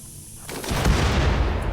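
A big explosion in the RimWorld video game: a sudden heavy boom that swells into a sustained, loud rumble and keeps roaring to the end.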